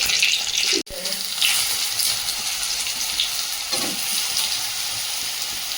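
Small soybean chunks frying in hot oil with chopped ginger and cumin, giving a loud, continuous close sizzle with a brief sharp dropout and faint stirring underneath.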